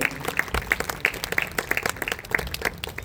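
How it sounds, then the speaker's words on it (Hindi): Audience applause greeting a guest onto the stage at an indoor mind detoxification talk in Sushant Lok, heard as steady, close, dense clapping from a seated crowd throughout. "सभी जोरदार तालियों से भाई जी का वेलकम करें।"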